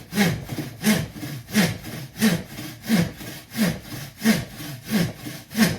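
A bow saw cuts through a tree branch in steady back-and-forth strokes, about nine rasping pulls in quick even rhythm, close and clear with no talking.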